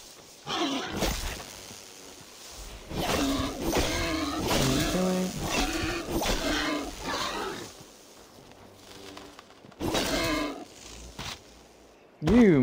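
A pig in Assassin's Creed Valhalla gives a run of loud, bellowing grunts and squeals in bursts with short pauses between them, close and dominant, and someone talks briefly around the calls.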